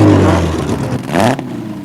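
A drag racing car with a wholly British engine setup, Johnny Whitmore's Dragonfly, roars loudly at a strip during a terminal speed record attempt, its engine rising in pitch before cutting off abruptly near the end.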